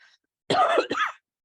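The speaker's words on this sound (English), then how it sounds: "I do have a lingering cough" Two harsh coughs in quick succession, close and fairly loud, with silence on either side.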